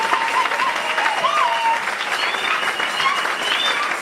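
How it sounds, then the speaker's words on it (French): Crowd at a church women's convention in Liège, Belgium, clapping steadily and loudly throughout, with scattered cheers and high whoops rising over the applause. "Est-ce qu'on peut acclamer pour l'église?"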